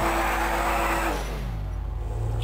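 Engine of a stolen BMW in GTA V, a loud sustained droning roar that drops in pitch partway through as revs fall, then a lower idling rumble.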